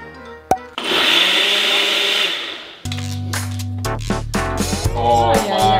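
A blender whirs loudly for about two seconds, mixing tomato and strawberry into a red sauce, then stops abruptly as excited voices shout and laugh over the kitchen.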